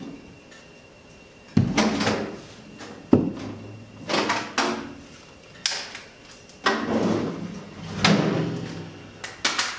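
Storage drawer under a Monella cooker wood-burning fireplace, built to hold firewood and lighters, slid open and shut several times, each pass a smooth rolling glide ending in a firm close.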